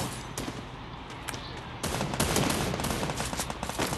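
Gunfire in the mobile shooting game Free Fire: loud, rapid bursts of automatic shots that thicken into a dense, continuous barrage partway through, with no speech over them.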